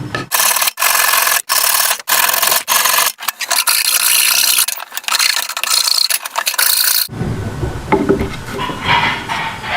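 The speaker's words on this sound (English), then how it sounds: "I'm going to take the heartwood and carve it into a 2-inch diameter cylinder to fit into the hole" Heartwood is carved by hand into a 2-inch cylinder for a crossbow bolt holder, with repeated rough rasping strokes close up, steady and rhythmic, shifting to a quieter scraping texture at the end.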